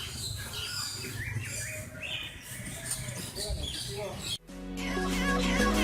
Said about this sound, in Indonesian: Nonton burung coy, kita coy, burungnya banyak coy.